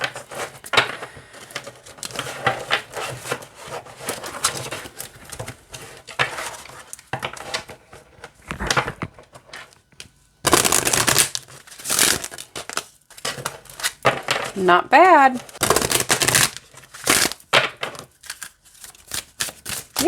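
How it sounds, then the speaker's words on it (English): Wild Woman Oracle cards riffled and slid together in short papery bursts, crisp and close, with soft rustling handling between shuffles and a brief spoken remark. "All right, let's shuffle."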